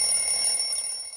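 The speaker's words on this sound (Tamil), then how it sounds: "எங்க தாத்தாவோட போன் அலாரம் எப்பவும் ஜனவரி 25 ஆனா அடிக்கும்" A grandfather's phone alarm rings with a steady electronic tone, several high pitched sustained tones held without a break, fairly loud and alone with no voices.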